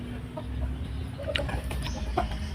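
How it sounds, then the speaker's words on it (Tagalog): Chickens cluck softly and intermittently over a low steady background hum, a few short calls scattered throughout. "Sigurado ako kakain itong mga manok natin doon"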